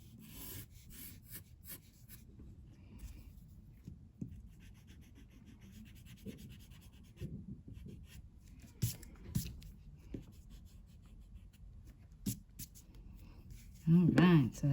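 Pencil scratching and rubbing on paper while shading an ice cream cone drawing, soft continuous strokes with occasional sharper marks, close and quiet, with a voice speaking briefly near the end.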